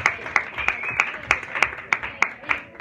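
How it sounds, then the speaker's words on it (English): Audience clapping a round of applause for Barry at a scout caravan final show, with about nine sharp, loud claps spaced at a steady rhythm over a murmuring background. "give him a round of applause, guys"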